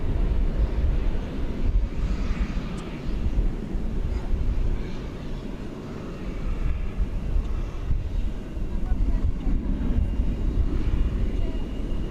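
A Turkish Airlines airliner arriving from Singapore at DFW Airport, a steady low roar of jet engines with wind rumble at an outdoor spotting spot, heard over faint background voices.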